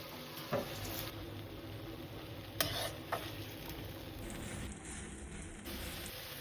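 Hot water poured into a sizzling frying pan holding a chili-sauce mixture, a steady hiss and crackle throughout with a few sharp clinks of a spoon, quiet and close.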